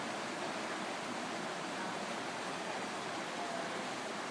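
Oak Creek in Arizona rushes steadily past a creekside restaurant table, a close, continuous wash of flowing water with no voices over it.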